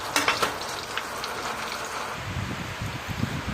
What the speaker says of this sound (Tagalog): prito na rin tayo ng ilang pirasong tuyo para the best yung champurado experience natin